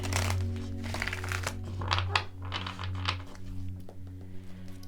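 Tarot cards are shuffled in quick crisp bursts of riffling and flicking, close by, over a low electrical hum.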